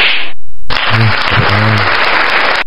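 A slap sound effect from a karaoke soundcard fires as a sharp crack, followed by a loud burst with deep thumping tones underneath.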